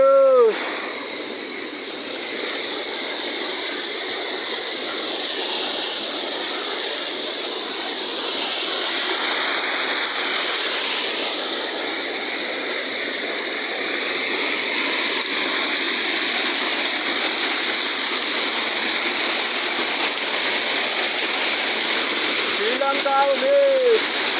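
Stream water flowing steadily at a bathing spot in Sri Lanka, running low, makes a continuous rushing wash, with brief voices at the start and end.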